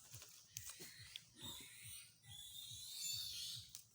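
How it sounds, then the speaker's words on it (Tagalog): Pig grunting in a rhythmic series of short low snorts and wheezy breaths, close and fairly quiet, with some rustling and faint high background noise. "Ang baboy, yan."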